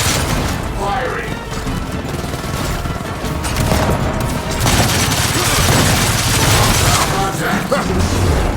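Gunfire from the video game Gears of War 4 comes as dense, continuous bursts and booms in loud, close succession, mixed with game sounds and voices talking over the action.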